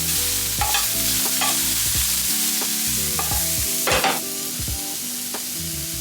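Egg whites frying in a pan while a utensil stirs and scrapes them, a steady close sizzle with rhythmic scraping strokes and no talk.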